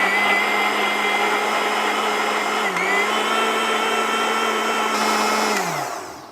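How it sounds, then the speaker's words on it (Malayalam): A kitchen mixer grinder runs steadily for about six seconds with its lid on, blending cold coffee. The motor drone is loud and close and winds down at the end. No one speaks over it. "ഇനി നമുക്കിത് മൂടി വെച്ചിട്ട് നന്നായിട്ടൊന്ന് മിക്സിയിൽ വെച്ച് അടിച്ചെടുക്കാം"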